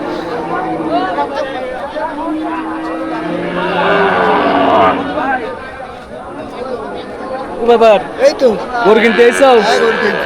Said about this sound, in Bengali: দেশি গরুগুলো একটু বেশি দেখতেছি প্রচুর গরু প্রচুর গরু